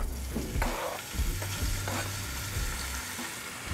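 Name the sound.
bacon frying in a pan for clam chowder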